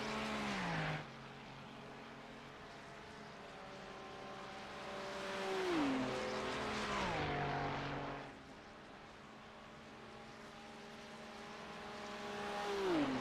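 GT3 race cars in a sim racing video game, engines whining up through the gears with repeated shifts and downshifts, a mid-level continuous drone with no talk.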